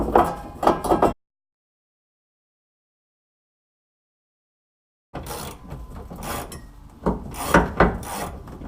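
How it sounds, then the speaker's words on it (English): A fuel tank strap under a GMC 2500 truck being wiggled loose gives harsh scraping and rasping bursts of metal rubbing, then a few seconds of silence before the grinding resumes, louder near the end. "Gotta wiggle this strap loose."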